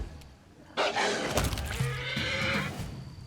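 An undead horse in the video game Pathfinder lets out a loud, drawn-out whinny up close, breaking into shrill wavering cries before trailing off.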